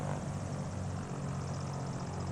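Tailwind bush plane in a flight simulator, its propeller engine droning steadily and fairly loud with a continuous buzzing hum and no pauses.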